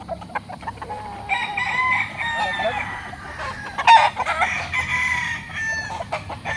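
Fighting roosters at a gamefowl yard crow and cluck over a steady rustling background, with several birds calling at once, one crow near and others farther off.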